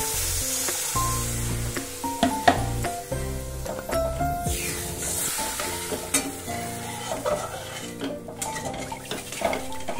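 Water poured into spice masala frying in a pan for a Bengali bhetki fish curry, giving steady close sizzling with stirring and clinks of a utensil against the pan throughout.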